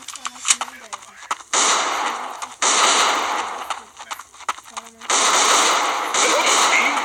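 Shotgun and pistol fire in a police-versus-robber shooter video game: several loud, sustained bursts of gunfire alternate with short gaps, with talk and game sounds in between.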